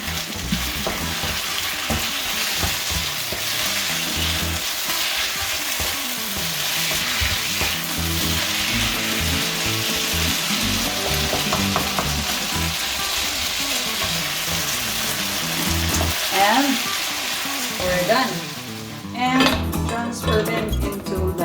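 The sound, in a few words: beef sizzling on hot plate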